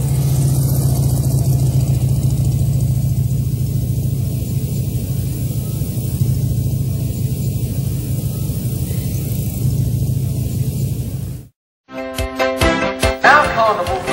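1930 Scott Tourer motorcycle at a seaside carnival arena, its engine running in a steady, loud, buzzing drone for about eleven seconds before a sudden break, followed by unrelated music.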